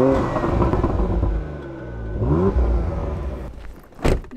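A warmed-up car engine on a snowy mountain trip is revved in short bursts: a rising vroom midway, then a sharper, brief roar near the end, close and fairly loud.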